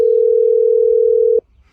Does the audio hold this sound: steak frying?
no